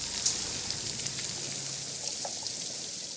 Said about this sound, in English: Rain. I love it.